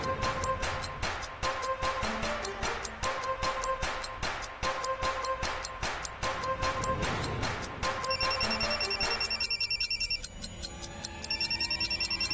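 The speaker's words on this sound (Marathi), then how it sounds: "शोभा उचलत नाहीये का फोन" Telephone rings on unanswered, a steady run of rapid bright electronic trills repeating through the whole stretch, loud and close with no one speaking.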